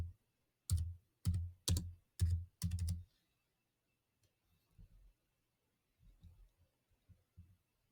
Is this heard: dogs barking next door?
no